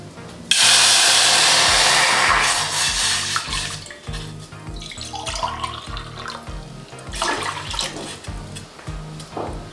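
A cup and a half of water is poured in for rice-flour khara kadubu dough, making a loud rushing splash for about two seconds before it thins out. Rhythmic background music plays underneath.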